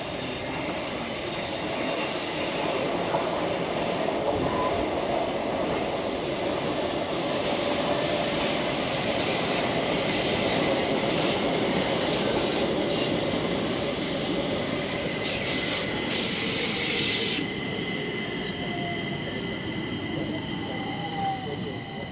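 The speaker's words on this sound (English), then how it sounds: "Oh, train coming in from Skarpnäck" A Stockholm metro train rolls into Skärmarbrink station with a loud rumble, wheels squealing and screeching high as it slows, steady roar throughout then easing near the end.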